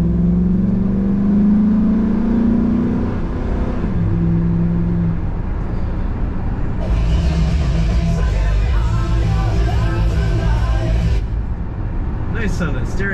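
The engine and exhaust of a 2005 Chevrolet SSR with an automatic transmission give a steady, close rumble that rises in a rev, mostly under someone talking.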